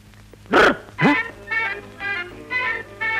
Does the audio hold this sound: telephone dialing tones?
no